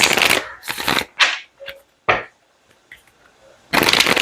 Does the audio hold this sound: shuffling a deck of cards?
yes